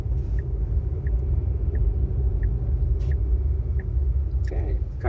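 A Tesla on Full Self-Driving turns into a parking lot with a steady low interior rumble of road and motor noise, faint periodic ticking, and a few soft clicks.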